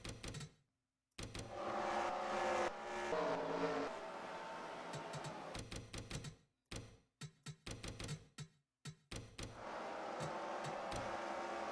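Race cars in NASCAR Racing 2003 (Xfinity at Phoenix) roar and whine past, with engine drones broken by gaps and a rapid series of short, choppy bursts near the end, fairly faint.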